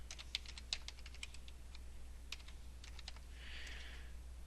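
Rapid bursts of keystrokes on a computer keyboard, clustered in quick runs with short pauses, close and fairly quiet over a steady low hum, with a soft hiss of noise near the end.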